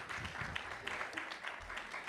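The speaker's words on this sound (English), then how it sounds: "let's give a round of applause to our keynote speakers" Brief applause from a conference audience honouring keynote speakers, a steady wash of many hands clapping at moderate distance for about two seconds, with faint murmuring underneath.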